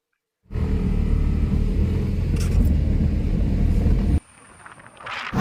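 Steady engine rumble and road noise of a car driving toward Ernakulam, loud and continuous, dropping away abruptly near the end.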